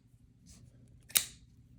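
WE Knives Arrakis folding knife flicked open, a soft swish followed by a single crisp, bright click of the blade locking, close and quiet in a still room.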